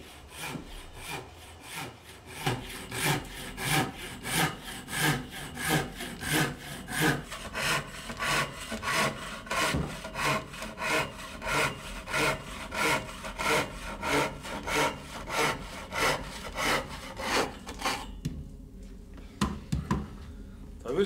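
Rhythmic back-and-forth strokes of a hand saw cutting slots in wood at a workbench, steady and close for most of the clip before stopping near the end.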